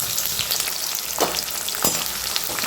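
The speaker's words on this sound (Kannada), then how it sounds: "ಈಗ 2 ನಿಮಿಷ ಎಣ್ಣೆಯಲ್ಲಿ ಫ್ರೈ ಆಗಬೇಕು." Food deep-frying in hot oil for a home recipe, a steady close crackling sizzle with a few sharper bursts of popping as pieces shift in the pan.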